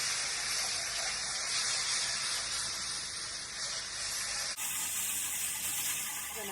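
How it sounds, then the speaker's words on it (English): Vegetable stock poured slowly into a roux for plain gravy while being whisked, a steady broad hissing wash of liquid and stirring, close and continuous with a slight shift partway through. "Now we're gonna slowly add our vegetable stock."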